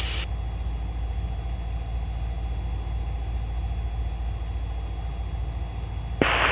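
Steady, droning piston engine of a Cessna 172 heard from inside the cockpit during student pattern practice, a constant low rumble with a faint tonal whine, interrupted only by brief radio squelch bursts at start and end.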